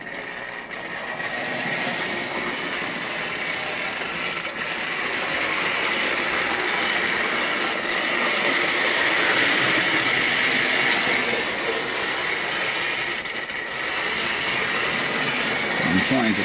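A Hornby OO-gauge model train, a streamlined Coronation locomotive pulling mainline coaches on three-rail Dublo track, runs with a steady whirring rumble that holds at even loudness throughout.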